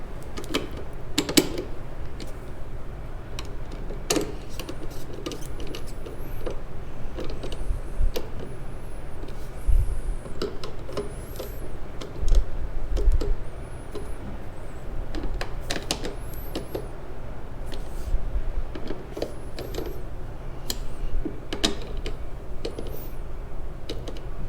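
Ratchet clicking on bolts of a 2020 Harley-Davidson motorcycle, worked through an extension during a Stage 1+ amp install: a steady series of close, sharp metallic clicks and ticks in bursts over a low hum, with no talk.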